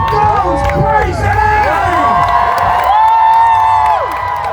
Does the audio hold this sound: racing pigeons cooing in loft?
no